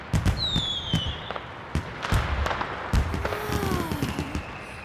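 Cartoon fireworks burst in a rapid string of sharp bangs and pops, with whistling rockets climbing and falling between them, loud and close and continuing throughout without any talk.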